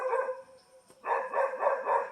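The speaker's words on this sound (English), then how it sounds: "If my dog will shut up." A dog barks and yips nearby in a workshop during a tool restoration, a short burst at the start, a pause, then a run of repeated barks that fill the second half.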